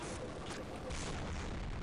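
A loud, sustained rumbling boom from an explosion in the video game Half-Life, filling the whole clip with dense, roaring noise.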